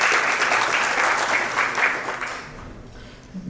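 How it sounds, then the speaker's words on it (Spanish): Audience at a genomics symposium claps in a steady, fairly loud round of applause that thins and fades away near the end, with no speech over it. "Le damos un fuerte aplauso a Ángel Mauricio Castro"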